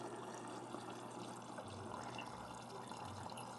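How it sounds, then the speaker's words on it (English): Water poured into a colonoscopy prep bottle holding powder, filling it to the fill line; a soft, steady trickle and gurgle of liquid at close range, fairly quiet throughout with no talking. "add water to the fill line."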